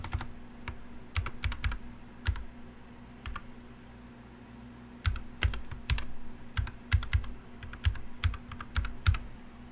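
Someone types on a computer keyboard in short irregular bursts of sharp clicks, quiet and close, with pauses between runs of keystrokes over a low steady hum.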